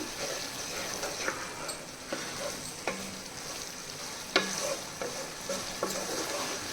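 Chili powder being stirred into a frying ridge gourd curry: a soft, quiet sizzle broken by repeated spoon scrapes and taps against the pan at an irregular pace.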